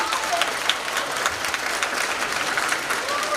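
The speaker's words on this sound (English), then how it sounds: "Let's give a round of applause to our Santaland Diaries." A theatre audience applauds after a staged holiday reading of the Santaland Diaries, producing steady, dense clapping from a crowd with no break.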